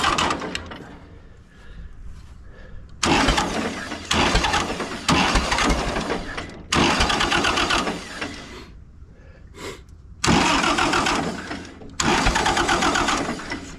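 A 1951 Cletrac Oliver HG42 crawler dozer engine being cranked with a battery boost, with repeated loud bursts of starter grinding separated by short pauses, close up.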